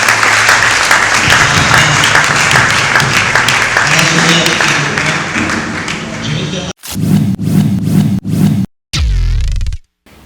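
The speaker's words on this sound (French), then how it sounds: "Est-ce qu'on peut acclamer pour le Seigneur?" A congregation claps loudly for the Lord in a church service, a thick sustained wave of applause with cheering that breaks into choppy bursts near the end.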